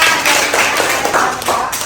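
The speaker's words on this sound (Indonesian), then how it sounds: "tepuk tangan buat Dila juga." Students clapping together in a classroom, a loud, close burst of hand claps with uneven rhythm from a small group, lasting under two seconds.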